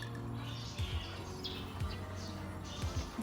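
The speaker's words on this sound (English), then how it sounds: "Whoa, look at this white bird." A white bird chirps in short bursts at a farm, the high calls repeating over steady low background noise.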